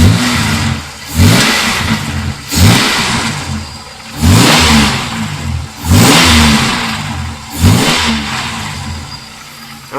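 A 1995 Chevy Lumina's engine is revved repeatedly, about five loud, close bursts spaced roughly two seconds apart, each rising and falling back to a steady idle.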